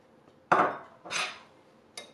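A spoon stirring paprika, salt, pepper, thyme and garlic powder in a bowl, producing three short scraping clinks spaced apart, close and fairly quiet against a near-silent background.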